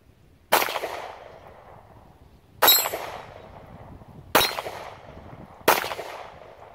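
Four sharp, loud gunshots from a Kel-Tec P11 pistol being broken in, spaced unevenly over several seconds, each with a ringing decay, close and with no voices.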